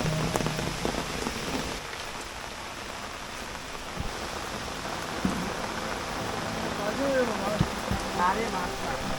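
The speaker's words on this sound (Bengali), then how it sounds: "এখন ভরপুর বৃষ্টি হচ্ছে" Heavy rain pours steadily over the flooded Ratargul swamp forest in Sylhet, a dense, unbroken hiss of drops on water and leaves that stays loud throughout.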